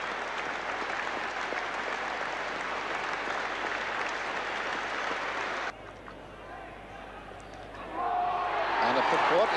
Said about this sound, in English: let's let the applause speak for itself.